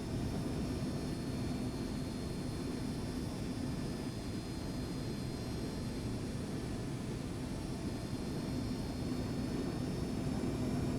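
Rolls-Royce RB211 jet engines on a Boeing 757 in X-Plane 11, a steady, loud, continuous roar and whine with no break.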